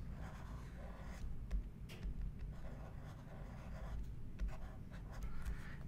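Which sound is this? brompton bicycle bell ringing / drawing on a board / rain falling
drawing on a board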